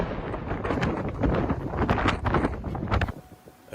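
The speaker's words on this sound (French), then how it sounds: "Rafale de vent à 160 km/h, forte chute de neige, débris sur la voie publique." Violent storm wind gusts up to 160 km/h, the kind of blast that strews debris across public roads, roar and buffet the microphone loudly for about three seconds before abruptly easing to a quieter rush.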